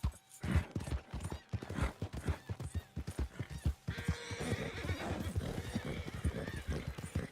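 An Appaloosa horse in Red Dead Redemption 2 trots with quick, even hoofbeats, then lets out a loud whinny midway, with hooves still going beneath it; no talking.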